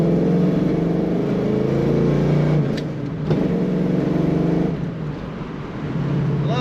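A 1972 Dodge Challenger's deep, throaty V8 engine rumbles steadily from inside the moving car, with its tone shifting as the driver eases off and back on.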